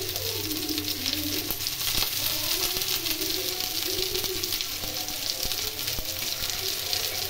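Turmeric, coriander, chilli powder and salt fry in a pan for Bengali-style bhetki fish curry, giving a steady, close hissing sizzle with occasional faint clicks and no talking.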